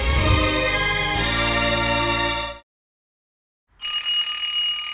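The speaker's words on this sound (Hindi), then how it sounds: "मैंने 2 बजे का अलार्म लगाया था।" An alarm clock set for two in the morning rings with a loud, dense, continuous bell. It cuts out into silence for about a second, then starts ringing again.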